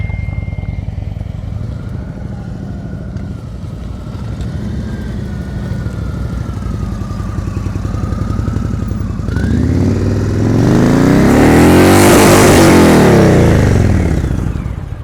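A Roadmaster motorcycle idles with a low, loping rumble, then revs up sharply into a loud, rising roar that peaks and falls back, heard up close at a slow-speed riding practice session in Ohio.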